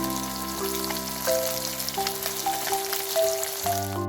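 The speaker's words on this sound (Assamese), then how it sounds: "এয়া ৰৌ মাছৰ পিচ আৰু এতিয়া ফ্ৰাই কৰি আছোঁ ধুনীয়াকৈ" Rohu fish pieces sizzle steadily in hot oil in a wok with a soft crackle, accompanied by a sustained tonal hum in the background.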